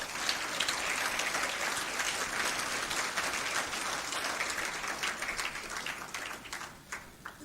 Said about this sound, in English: I think you should stand up for a better round of applause